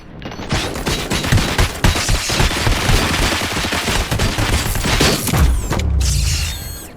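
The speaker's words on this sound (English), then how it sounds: "Fire at will." Loud, sustained gunfire in Robocop Rogue City: rapid automatic bursts and booming shots pile up into a dense, continuous barrage. Metallic clatter runs beneath, with no talk over it.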